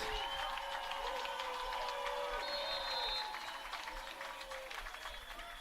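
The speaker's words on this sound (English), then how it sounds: "Bridgewater Panthers crowd getting involved." Bridgewater Panthers crowd at a boys lacrosse game, a steady wash of cheering and applause filling the stands, loud and sustained before easing slightly toward the end.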